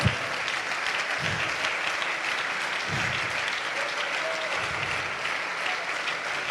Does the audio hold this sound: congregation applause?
yes